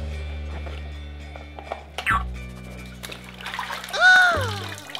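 Water dumps and splashes from the bucket of a Wet Head game, two brief splashy bursts separated by a pause, with voices and a background tune underneath.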